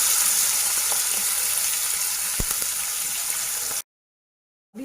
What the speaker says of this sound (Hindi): उसके बाद हम इसमें प्याज डालेंगे